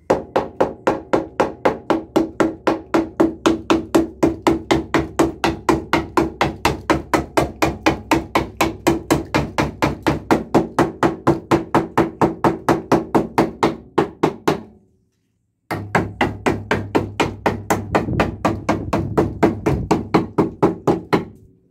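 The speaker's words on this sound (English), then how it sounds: "I've got my favourite rust finding hammer. Can have a tap round, see what's solid and what's not" Repeated steady tapping of a hammer on the body panels of a 34-year-old Land Rover Discovery 1 with a rotten boot floor, sharp knocks in a fast even rhythm close by, pausing briefly before continuing.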